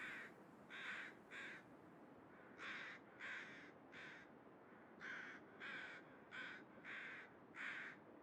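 Crows outside give a long run of harsh caws in short groups of two and three, steady and fairly loud against a constant low background hiss.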